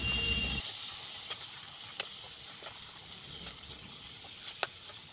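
Local chicken sizzles and fries in a pan as half-boiled kohlrabi and potatoes are stirred in. A steady hiss carries scattered sharp pops, and a louder splash opens the clip before it settles.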